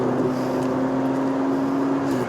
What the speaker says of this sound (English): Now I am at odds with the sound this car produces.